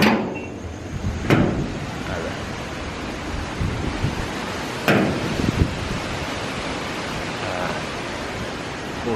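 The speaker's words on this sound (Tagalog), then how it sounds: "Kusog ng hangin, no?" Strong typhoon wind from Typhoon Odette in Iloilo roars steadily, with loud gusts and sharp buffeting bangs against the microphone at intervals.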